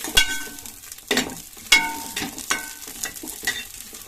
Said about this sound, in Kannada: ನೀಟಾಗಿ ಫ್ರೈ ಆಗ್ತಿದೆ.